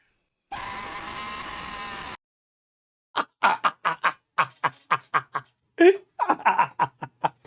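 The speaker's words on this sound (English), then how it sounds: "Bro, that yell is perfect." A person lets out one long sustained yell, loud and raw, followed after a pause by a quick burst of choppy laughing or yelping sounds.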